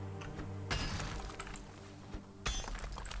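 Stone is smashed in Valheim, giving two sharp crashing impacts roughly two seconds apart, each with bright crumbling debris, close and loud over a low droning background.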